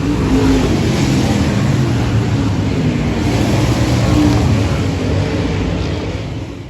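A mega modified race car runs on the Farmington Empire Speedway track, its engine a loud continuous roar heard from onboard, with dense rushing noise and faint passing engine tones.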